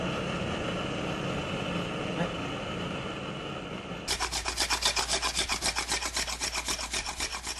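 Rhythmic rubbing strokes of sandpaper against bamboo, close up, following a stretch of steadier scraping noise.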